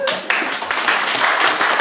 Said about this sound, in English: all the applause you hear is just for you